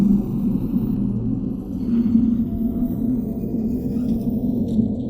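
A large gate opens with a deep, continuous low rumble, steady and heavy throughout, with faint mechanical groans layered on top and no voices.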